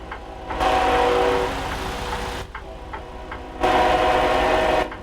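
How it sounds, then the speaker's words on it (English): A loud train passes close by in American Truck Simulator, heard from a truck cab with the head out the window; a steady rumbling roar that swells twice, alone without talk. "Boy, that train's loud when you get your head outside the window."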